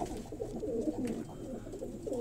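Breeder pigeon cooing close by, soft throaty rolling coos repeating over a couple of seconds with a faint background hum.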